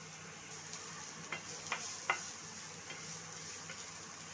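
Chopped onion drops into hot oil already holding minced ginger and garlic, giving a soft, steady sizzle with a few light spoon clicks while stirring, no voices.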